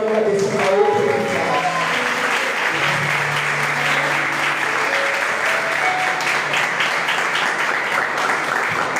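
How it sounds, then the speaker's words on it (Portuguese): A church youth service congregation bursts into sustained applause, dense clapping filling the whole stretch with steady intensity, while a singer's voice and sustained music tones sit faintly underneath. "Aplauda o Senhor"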